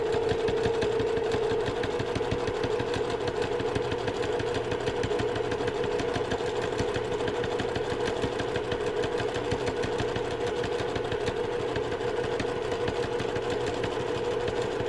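A sewing machine runs close and steady for the whole stretch, stitching along the inside edge of a cathedral windows cushion cover frame, its needle whirring in a fast, even rhythm with no speech.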